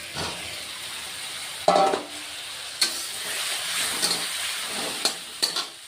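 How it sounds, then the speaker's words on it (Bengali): Fried potatoes tipped into a hot pan of mustard paste for a rohu fish curry, giving a steady close sizzle broken by a few sharp clatters and stirring scrapes, with no voices. "ভেজে রাখা আলুগুলিও বন্ধুরা দিয়ে দিচ্ছি"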